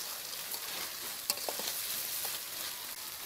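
Spice paste for an egg curry fries steadily in oil with an even, soft sizzle, a few brief stir scrapes poking out near the middle.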